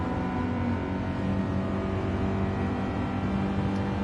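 Race car engine in Gran Turismo 7 holds a steady, loud drone throughout, a continuous near roar with layered engine harmonics and no pauses.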